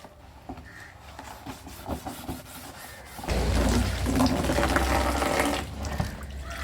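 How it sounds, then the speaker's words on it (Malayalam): A fish tank is scrubbed with a scrubber and water, first as scattered rubbing and knocking and then as a louder steady rush of poured water with rubbing strokes, close by and with no voices. "ജസ്റ്റ് വെള്ളം ഒഴിച്ചിട്ട് സ്ക്രബ്ബർ വെച്ച് തേച്ച് കഴുകണം"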